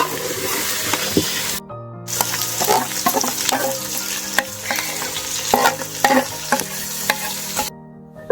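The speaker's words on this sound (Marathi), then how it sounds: "आता गावठी कोंबड्याचा रस्सा आता करायचं चाललेला आहे. शिजत ठेवलेला आहे." Village chicken curry stirred in a cooking pot, with close, loud scraping strokes of a spoon and a continuous sizzle, in irregular bursts with two brief pauses.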